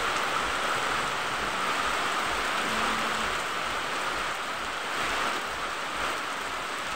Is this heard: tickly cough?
no